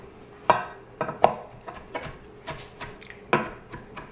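A knife chopping destemmed spinach leaves finely on a cutting board, making a series of distinct, fairly loud, close knocks at an uneven rhythm, about eight to ten chops with no talking.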